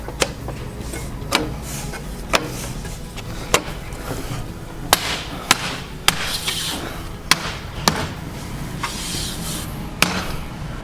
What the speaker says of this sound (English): You may need to use a rubber mallet to help seat things.